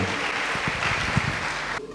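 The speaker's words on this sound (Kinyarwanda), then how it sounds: "Kaduha Imana amashyi kubw'ijambo ryawe." A church congregation applauds during a sermon, giving a dense, steady wash of clapping that stops abruptly near the end.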